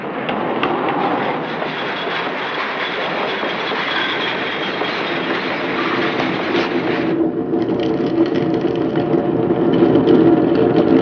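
A train rolls steadily along the rails with a continuous rumble and rhythmic clickety-clack of wagons, loud and close throughout, with no voices.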